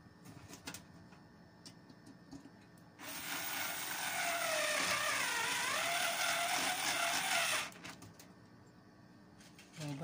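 A power screwdriver driving screws into a computer power supply runs in one continuous whirring burst of several seconds, close and moderately loud, framed by quieter handling clicks before and after.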